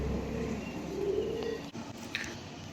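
Teddy pigeons give soft, low cooing calls close by over a faint background hum, a brief murmuring coo without any voices.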